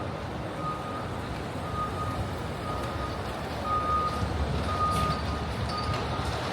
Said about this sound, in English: I always like getting the FDNY when they're backing in